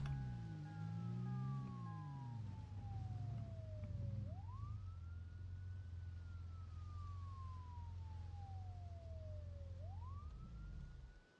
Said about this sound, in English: Oh, the siren went out.